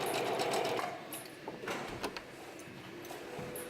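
Close sewing machine running a wide, short zigzag stitch, a fast rhythmic mechanical whir that pauses briefly and restarts, steady and alone.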